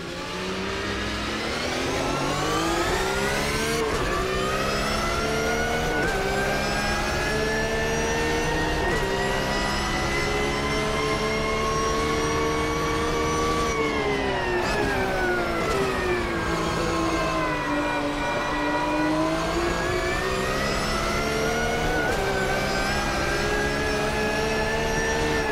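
Onboard engine of a Porsche 911 GT3 R racing car in the Automobilista 2 game, loud and continuous, revving up through the gears with repeated shifts, then dropping and climbing again.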